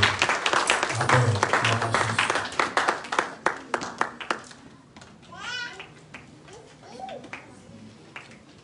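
Church congregation applauding during worship, rhythmic clapping from many hands at first that fades out, followed by scattered voices and a child's babble.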